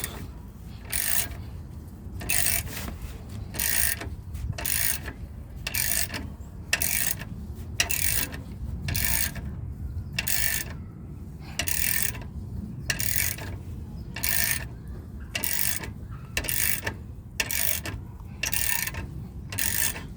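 Someone works a sway bar link back into place under a 2011 Crown Vic, making repeated raspy ratcheting strokes in a fairly steady rhythm of about one per second, close and moderately loud over a low background hum.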